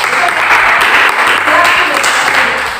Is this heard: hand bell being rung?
no